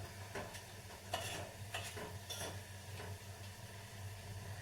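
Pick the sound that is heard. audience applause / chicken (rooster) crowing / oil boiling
oil boiling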